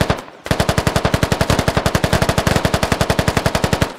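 Sustained automatic gunfire in the military video game Squad: a fast, even stream of loud, close shots that starts abruptly after a brief pause and carries on without a break.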